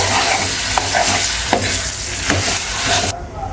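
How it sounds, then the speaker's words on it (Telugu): Steady sizzling of spices frying in hot oil to temper a red chilli chutney, a few sharp crackles and pops, continuous and close, cutting off abruptly near the end. "ఇప్పుడు కొద్దిగానే పచ్చడి తాలింపు పెట్టుకున్నాను"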